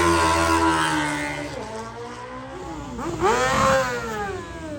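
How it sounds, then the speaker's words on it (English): An Isle of Man TT racing motorcycle leaves the start with a loud, close engine that revs hard and climbs through quick gear changes, the pitch dropping and rising again. "The racers leave in 10-second intervals for the ultimate test of rider, machine and racecourse."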